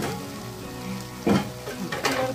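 Masala frying in oil with mutton sizzles steadily up close, with two louder bursts of crackle and scraping as the mixture is moved in the pan, and no voices.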